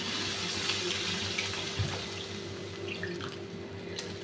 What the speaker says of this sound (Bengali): এখন ঝোলটা দিয়ে দিচ্ছি